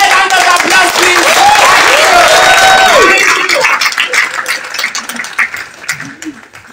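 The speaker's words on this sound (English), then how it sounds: "Can we give her a round of applause, please?" Loud applause from an audience at an award ceremony in London. The clapping is dense for about three seconds, then thins into scattered claps. Voices and cheering are mixed in.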